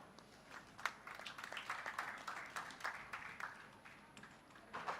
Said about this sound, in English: Round of applause for sir.